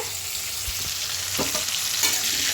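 Turmeric-rubbed prawns sizzle steadily in a pan of hot oil, a close, even crackling hiss broken by a couple of brief stirring clicks.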